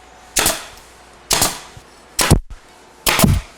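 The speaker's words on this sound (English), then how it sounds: "make sure that your gun is sitting at a perfectly perpendicular with whatever surface you're nailing into" Four sharp, loud snaps of a staple gun firing into cabinet wood, evenly spaced about a second apart, each a crisp close crack with a brief decay.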